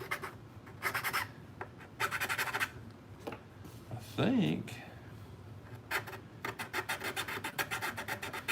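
A round file rasping along the edges of a Mandalorian helmet build, with several short bursts of scraping strokes and a fast run of rhythmic strokes near the end, plus a brief voice in between.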